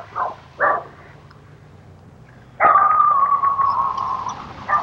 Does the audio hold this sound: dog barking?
yes